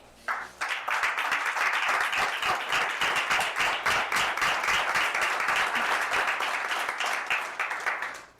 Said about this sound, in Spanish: Le brindamos un aplauso al Señor, amén.